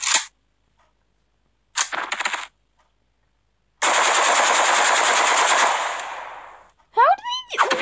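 Rifle gunfire in a video game, short bursts followed by a sustained automatic volley lasting a couple of seconds, loud and close, ending with a brief burst of sharp game effects.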